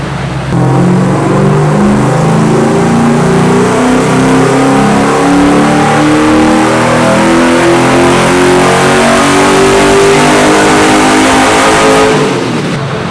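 A rally race car rated around 500 horsepower revs hard while driving, its engine climbing through gears in loud, continuous rising sweeps heard up close with no talking.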